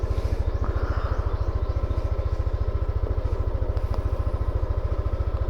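A motorcycle engine idles on its first start after an oil change, a steady, even, low pulsing putter held close and loud throughout with no talk.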